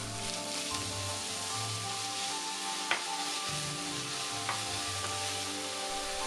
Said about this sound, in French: Faire revenir une petite minute l'oignon ciselé. Ajouter le bœuf haché, cuire une petite minute.